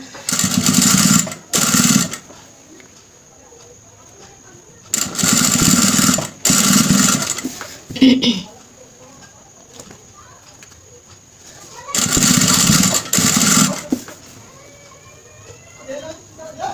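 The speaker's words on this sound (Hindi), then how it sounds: "तो इसमें हम बिल्कुल किनारे पे सिलाई लगाएंगे" A household sewing machine stitching along the very edge of a fabric hem, running in three loud bursts of rapid whirring separated by quiet pauses, with faint coos from pigeons nearby.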